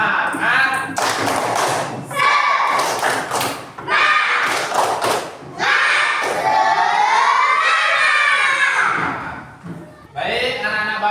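A school class performs a rhythmic spirit clap chant, bursts of loud group clapping in patterned beats alternating with children shouting the chant in unison, close and energetic.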